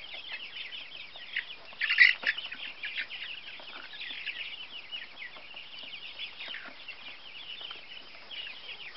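Dense chorus of chicks peeping and clucking continuously, close by, with a brief louder burst near the start and no talking.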